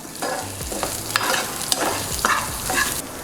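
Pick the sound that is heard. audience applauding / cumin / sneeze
cumin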